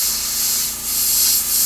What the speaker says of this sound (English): there's just no way I can get this thing to shoot where I need it to without spraying all over the other parts of the model